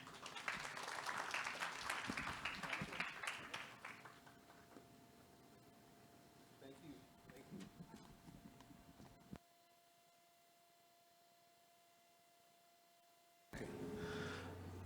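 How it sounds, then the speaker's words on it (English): Symposium audience applauding a speaker introduced for a welcome address: dense clapping swells loudly at the start, then thins and fades into a steady electrical hum and near silence before a brief burst of noise returns at the end. "a resounding round of applause, please, for Mr. Rene Butch S."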